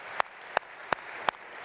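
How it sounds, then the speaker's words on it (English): Four sharp, evenly spaced claps ring out at a startup competition finals, alone over a faint room hush, sounding more like one person's slow clapping than a full crowd. "Let's give them a round of applause."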